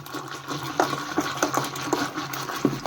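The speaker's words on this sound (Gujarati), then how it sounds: "હવે આપણે તેને બરોબર હલાવી લઈશું।" Kadhi batter of gram flour and buttermilk being stirred in a bowl, with repeated wet scraping and sloshing strokes at an uneven rhythm, close and fairly quiet, no talking.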